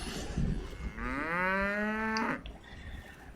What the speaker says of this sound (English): That's not the horse making those cow noises.